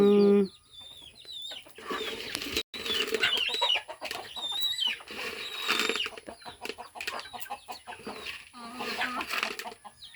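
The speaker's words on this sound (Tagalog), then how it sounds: "Nagpapakain na siya ng manok." Chickens cluck and squawk close by in a busy, overlapping flock while being fed, with occasional rustling and a brief voice at the start.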